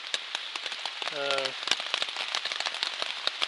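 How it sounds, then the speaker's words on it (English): Rain patters steadily on a trail tent, a dense close crackle of drops with one brief tonal squeak partway through. "Got starting to rain a little bit harder"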